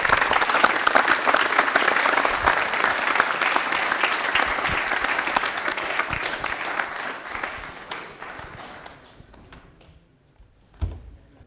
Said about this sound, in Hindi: तालियां हो जाए मेहरू के लिए एक बार जोरदार